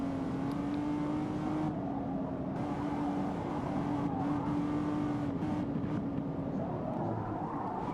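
Race car engine in the Forza Motorsport racing game, a steady loud drone with a sustained tone that dips briefly as the car brakes, continuous throughout with faint talk underneath.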